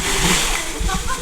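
People leaping into the pool beneath a remote jungle waterfall on Siquijor in the Philippines, a loud close splash with rushing water behind it and people talking over it.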